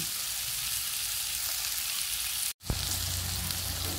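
Buttered garlic shrimp frying in a pan, a steady close sizzle that runs throughout with a brief dropout and clatter of stirring midway.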